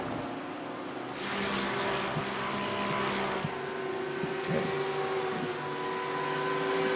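Race cars roar in the iRacing sim at Autódromo José Carlos Pace, a steady layered engine drone with shifting pitches as several cars race together at a distance.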